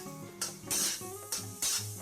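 Sponge gourd (luffa) being stir-fried in a pan: the spatula scrapes and tosses in several bursts with a sizzling hiss in between, close and clear, no voices.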